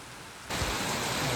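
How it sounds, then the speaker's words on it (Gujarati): Heavy rain pours down in a village, starting as a softer patter and suddenly swelling into a loud, dense, close roar of rain on surfaces. "આવે ને ધોધમાર વરસાદ મિત્રો."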